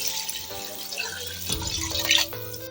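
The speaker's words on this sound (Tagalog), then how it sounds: "lagyan na natin ng tubig" Water is poured into a cooking pot for native chicken tinola in a rural home kitchen, a short steady splashing stream close by, with no talk.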